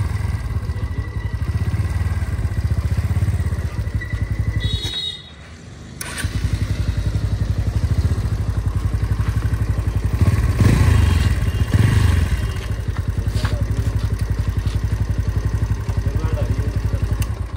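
A new NS125 BS6 motorcycle that had a second service, with its engine cutting out when shifting gears, runs with a steady, loud, close drone. The sound drops away briefly early on, then picks back up and holds its rhythmic chug to the end.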